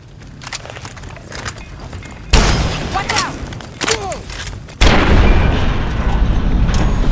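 Gunfire and explosions in the wasteland game Fallout: New Vegas, with loud booming blasts that hit in sudden surges and rumble on over a dense, noisy background, alongside a voice talking.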